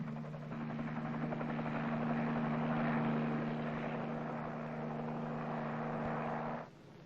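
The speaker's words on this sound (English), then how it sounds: "helicopters can be guided to points behind enemy lines in surprise assaults on tactical objectives" Military helicopters flying overhead, a steady loud rotor drone with strong low blade-pass hum and broad engine whine that holds for several seconds, then drops off abruptly near the end.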